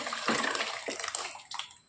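Water pours and splashes into a pan of pav bhaji masala in a few uneven gushes, close by and fairly loud.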